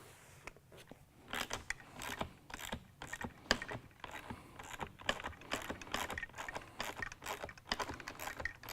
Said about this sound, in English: Let's go ahead and remove those bolts.